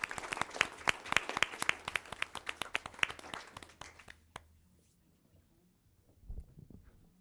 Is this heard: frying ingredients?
no